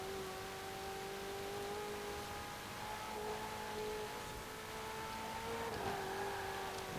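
Racing cars in Forza Horizon 4 drone steadily through a championship race, a sustained engine hum with faint shifts in pitch, continuous and fairly even with no voices over it.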